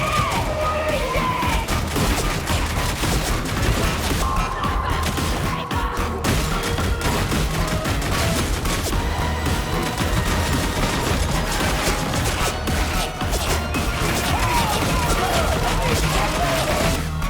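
Dual Stub Automatic pistols firing in the video game Warhammer 40,000: Darktide, a dense, continuous barrage of rapid gunfire with crashes and thumps of combat throughout, mixed with a voice talking over the action.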